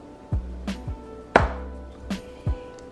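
A knife chops fresh garlic on a cutting board in a few sharp, separate strikes, about six knocks spaced unevenly over three seconds, close and clear with no talking.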